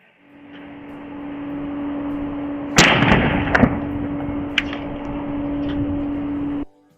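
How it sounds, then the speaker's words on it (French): A sharp bang of a car tire bursting cuts through a steady humming background, followed by a few smaller cracks and rattles before the hum ends abruptly. "L'éclatement de son pneu a été filmé par une caméra de surveillance."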